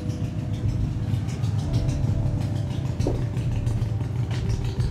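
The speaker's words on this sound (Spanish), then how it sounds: "Una Harley." A deep, rumbling Harley-Davidson motorcycle engine idles steadily and loudly throughout, with a low, even throb and no talking.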